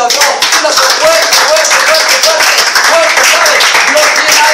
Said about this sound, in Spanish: Bríndale un fuerte aplauso a Dios.